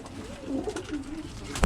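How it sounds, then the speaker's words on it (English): Birmingham Roller pigeons in nest boxes give soft, rolling coos in a short rising-and-falling run, close and moderately loud over a light background hiss. "just a quick look at all the birds in the nest boxes"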